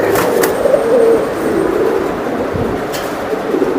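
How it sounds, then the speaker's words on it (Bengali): A female racing pigeon at a loft coos in a low, throaty murmur over steady loud background noise, with a few brief sharp sounds scattered through. "এটা আমার খুব পছন্দের একটা মাদি কবুতর"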